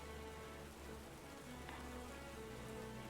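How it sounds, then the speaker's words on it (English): Steady rain falling in a video game, a constant soft hiss of drops on surfaces with a faint low tonal hum beneath, unbroken throughout. "Oh, rain again."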